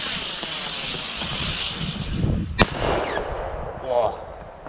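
A Donnervogel firework rocket whooshes up from a sharp loud crack, its hiss rising and fading overhead against a steady outdoor rumble, with a brief later burst.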